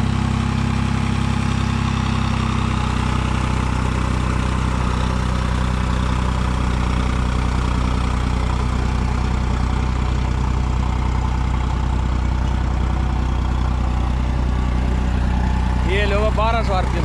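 A New Holland 3630 tractor engine runs steadily at 1200 rpm, a loud low continuous diesel rumble that holds without change throughout, with a brief voice near the end.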